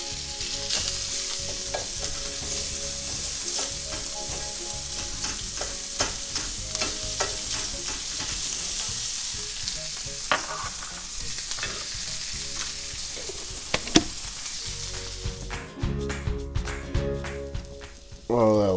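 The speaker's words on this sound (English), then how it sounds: "go in with 4 ounces of diced pancetta. Just start rendering that down." Four ounces of diced pancetta renders over medium-low heat in a pan, crackling and sizzling steadily up close with frequent stirring clicks, then a sharper, busier spatter and scraping toward the end.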